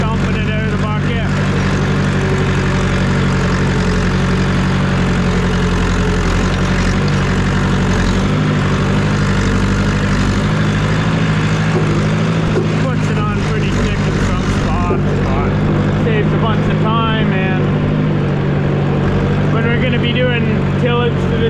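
A farm tractor with a loader bucket drives across a field, its engine a steady, loud low drone running the whole time with clanks and rattles over it and some faint talk in the background.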